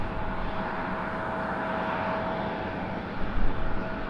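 A Southwest Airlines jet at Raleigh-Durham International Airport produces a steady, broadband engine roar, distant but continuous, with a slight swell near the end and no talk.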